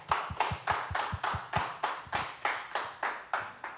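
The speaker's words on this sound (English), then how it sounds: "Let's give Motor Officer Ivins a round of applause," Steady, evenly spaced claps ring out at a back-to-school street safety workshop, a faint, small-group round of applause with a regular beat and no talk.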